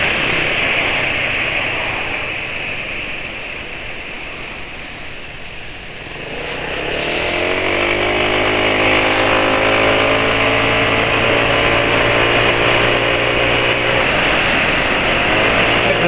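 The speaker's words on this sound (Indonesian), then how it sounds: "Napas mesin kayaknya masih makin lega ya pakai delta loop ini" A motorcycle engine running on Deltalube Adventure oil: a rough low rumble that fades slightly, then rises into a steady, loud drone with sustained engine tones, close by.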